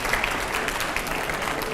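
A crowd at a televised Indian political interview event claps steadily, a brief dense burst of applause with no pauses.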